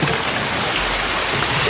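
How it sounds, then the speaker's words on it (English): Heavy rain pours down in a film scene, a loud, dense, unbroken hiss of water drumming on surfaces close around, with no voices over it. "Pouring rain."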